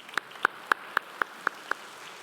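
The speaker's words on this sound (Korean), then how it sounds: "다시 박수해 주시죠." A church congregation clapping again during a Sunday service, seven distinct, evenly spaced claps in a steady rhythm, crisp and near against a quiet room.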